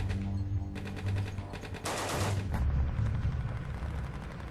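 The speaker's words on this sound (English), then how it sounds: "the Branch Davidians respond with a barrage of gunfire" A sustained barrage of rapid gunfire from the Branch Davidian compound at Waco, dense overlapping bursts rattling continuously at close range with no talking.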